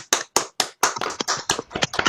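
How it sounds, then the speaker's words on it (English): Scattered, sparse clapping from a small audience at a Toastmasters speech event, a handful of close, uneven hand claps over about two seconds. "Let's give them all a round of applause."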